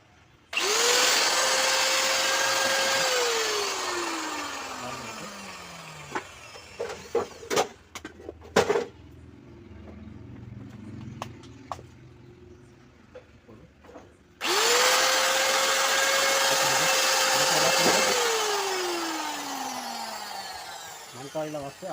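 An angle grinder fitted with a replaced armature whines up to speed, runs for a couple of seconds and spins down with a falling pitch. Clicks and handling knocks follow in a quiet gap, then the grinder starts again.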